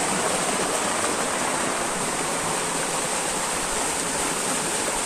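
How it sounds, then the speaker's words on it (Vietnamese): A waterfall beside a rock cave roars loudly and steadily, a dense, unbroken rush of falling water filling the whole span with no other sounds standing out. "Con thác chảy ồn ào to quá."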